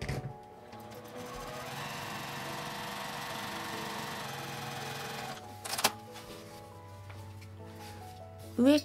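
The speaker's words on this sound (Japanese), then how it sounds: "アイロンで折って端ミシンをかけます。" A sewing machine runs a steady topstitch along a folded, ironed fabric edge for about five seconds, then stops with a few clicks and brief handling noises.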